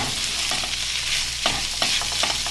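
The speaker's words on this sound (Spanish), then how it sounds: "Y aquí lo vamos a estar dorando." Suadero meat seasoned with garlic salt browns in a hot pan with a loud, constant sizzle, broken by a few sharp stirring clicks and scrapes.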